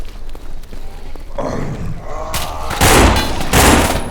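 Gunfire in the zombie shooter No More Room In Hell, with bursts of shots and heavy thumps that grow louder and denser toward the end, under a noisy game mix.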